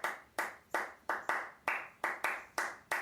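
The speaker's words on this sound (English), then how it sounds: "That's like the main bell pattern in Afro-Cuban music in triple time meter." Nine sharp hand claps in a lopsided repeating Afro-Cuban bell pattern in triple meter, crisp and close, with no voices.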